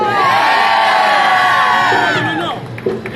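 At a holiday party, a mixed crowd of kids and adults yells enthusiastically in reply to the host, a loud massed cheer of many voices that holds steady and then fades into scattered shouts.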